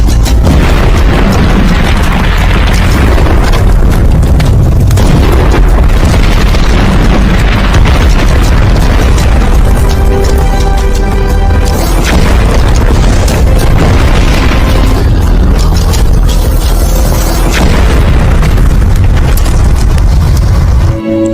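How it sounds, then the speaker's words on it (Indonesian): Explosions going off across a minefield, a loud, dense run of deep booms and rumbling blasts that follow one another with hardly a break for about twenty seconds. "Ledakan demi ledakan terdengar di sekitar mereka"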